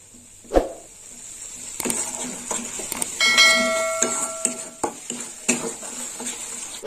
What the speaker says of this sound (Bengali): টমেটো বাটা দিয়ে দিলাম। আর একটু কষে নেবো।